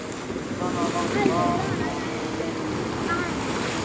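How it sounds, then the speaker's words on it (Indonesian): Steady roar of heavy surf and wind buffeting the microphone, with faint voices underneath throughout, at a beach near Bantaeng, South Sulawesi. "Tapi sayang ombaknya lagi besar."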